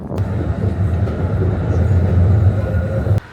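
Steady low rumble and rolling noise of a tram moving along rails in Katowice, Poland, close and continuous, ending abruptly.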